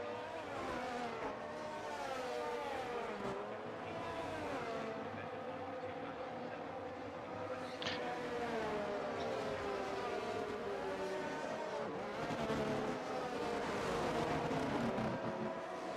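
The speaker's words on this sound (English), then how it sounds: "Bob coming up the back straight now" Race cars in the F1 23 video game at the Japan circuit, engines droning steadily and loudly throughout with continuous layered engine whine and gear changes, no talking.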